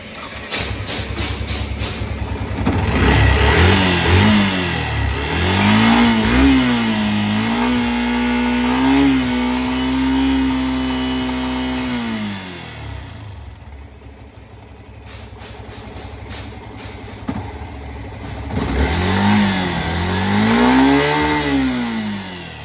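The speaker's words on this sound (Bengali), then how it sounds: "এরপরে দেখা যাচ্ছে ইঞ্জিন থেকে বিভিন্ন ধরনের সাউন্ড আসতেছে, আমি একটু দেখাই" A Yamaha FZS V3 motorcycle engine with abnormal noises, a loud close running engine that revs up and holds a rising whine, drops to idle, then revs again with rough rattling undertones.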